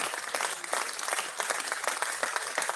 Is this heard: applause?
yes